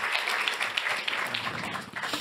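Brief, fairly faint applause from an audience at an insurance industry awards event, a soft continuous patter of clapping heard from a distance.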